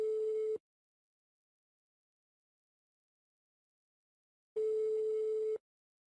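Busy signal on a telephone line while dialing a prank call, two steady tone bursts at the start and end with silence between, loud and alone.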